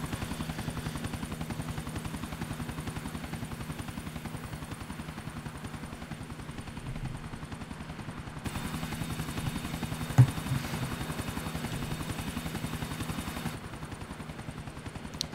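Helicopter flying in Grand Theft Auto 4, a steady chopping rotor drone that holds throughout, with one brief sharp crack partway through and no talking.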